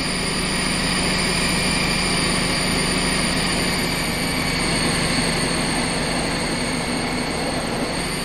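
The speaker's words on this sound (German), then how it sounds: "was fährt denn hier überhaupt für einen Scheißzug lang" A train in the OMSI 2 bus simulator rumbles past loudly and continuously, a steady rolling roar and engine drone with a high whine on top, and no talk.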